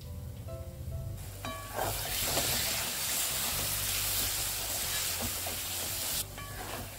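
Masala for bhuna palak cooks covered on a low flame, a soft frying sizzle that swells into a steady, fuller hiss for most of the stretch before easing back, with faint tonal hum beneath.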